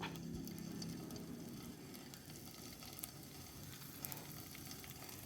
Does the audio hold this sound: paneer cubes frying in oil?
yes